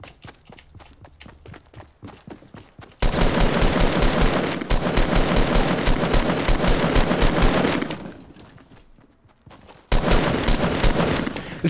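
Rapid automatic gunfire rattles in Fortnite Battle Royale, two long loud sustained bursts following a stretch of lighter, scattered shots, with a short lull between them and no talk.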